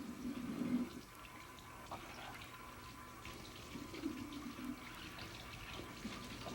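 An SCBA facepiece assembly is rinsed under a faucet at a deep sink, with steady running water splashing throughout, a little louder at the start and around the middle, and no voices.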